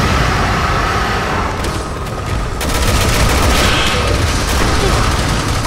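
A heavy blast roars through a Resident Evil 6 firefight, a grenade explosion dense and loud, followed by crackling gunfire-like noise and rumbling debris.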